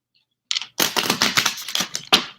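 A tarot card deck being shuffled by hand, a close run of rapid riffling card flicks after a brief quiet start, with no talk.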